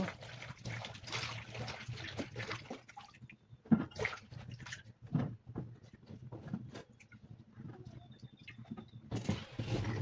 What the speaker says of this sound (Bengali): তো সবজিটা ধোয়া আমার হয়ে যাচ্ছে